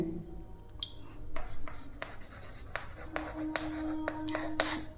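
Marker or chalk writing on a classroom board during a chemistry lesson on salt bridges, heard as a run of faint scratchy strokes and taps, with light room noise.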